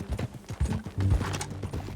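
Horse hooves clip-clop on the ground in Red Dead Redemption 2, a quick uneven run of close, clear hoof strikes with a faint snort, no talk over it.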